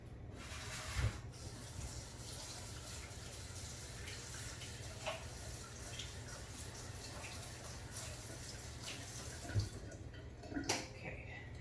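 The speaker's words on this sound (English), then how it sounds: "So let me rinse this off really quick." Running tap water rinses Amsterdam acrylic pouring paint off a cup or tool under a faucet, a steady broadband rush held for the whole stretch with a few brief louder splashes and clatters.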